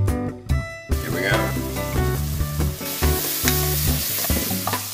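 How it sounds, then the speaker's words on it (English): Garlic sautés in a pan with onions seasoned with salt, cumin, chili powder and dried oregano, a soft continuous sizzle with occasional stirring sounds, partly buried beneath loud background music. "So this is just gonna saute for about 3 or 4 minutes"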